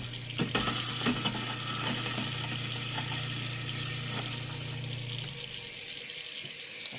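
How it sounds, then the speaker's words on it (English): A kitchen sink garbage disposal runs with water flowing, a steady loud grinding hum and splashing for about five seconds, then spins down leaving the water running. "So let's cut this garbage disposal on and let's see what happens."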